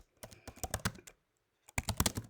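Fingers type steadily on a computer keyboard nearby, tapping out a quick burst of keystrokes. After a short pause, a second flurry of taps follows.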